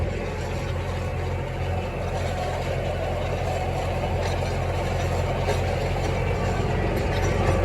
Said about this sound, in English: The tedder's getting a good sweep of everything.